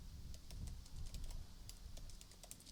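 Rapid, uneven keystrokes on a computer keyboard while writing JavaScript code, close and clear over a low background hum, continuing in short bursts with no talking.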